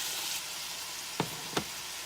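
Beef browns in a skillet with a steady, close, broadband sizzle. Two sharp knocks from a utensil against the pan come about a third of a second apart.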